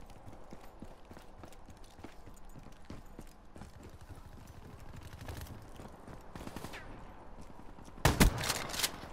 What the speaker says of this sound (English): Fucking people up with this goddamn shotgun, son